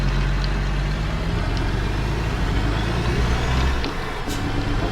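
A big rig in American Truck Simulator drones along through a tight corner, a steady low diesel rumble with a faint hiss of air near the end, close and continuous, no talking.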